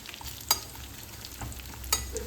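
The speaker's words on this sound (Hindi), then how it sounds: "अब साइड में एक देसी घी से जीरा भून रही हूँ" Cumin seeds frying in desi ghee in a home kitchen, a soft, steady sizzle with a few sharp pops and scraping clinks from the utensil against the pan, close and quiet.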